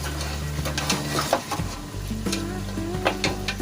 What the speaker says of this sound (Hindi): अब आपने इसको दोबारा से फ्राई करना है। सारा मसाला अच्छे तरीके से भूनना है।